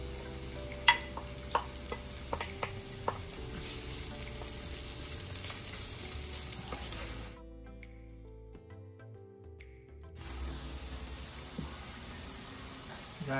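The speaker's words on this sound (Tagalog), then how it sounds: "Sauté lang natin." Onion and garlic sautéing in a hot pan, a steady sizzle with scattered stirring clicks and scrapes, briefly dropping to near silence midway before the frying hiss resumes.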